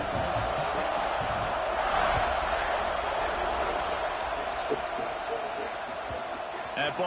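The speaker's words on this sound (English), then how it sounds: "this crowd is buzzing after that last score" Stadium crowd noise from the College Football 26 video game, a steady loud roar that holds throughout with a few brief sharper accents and commentary voices over it.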